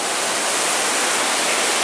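Devil Track River runs high and aggressive after heavy rain, a loud, steady broadband roar of rushing whitewater close by with no break, near waterfalls on a hiking trail.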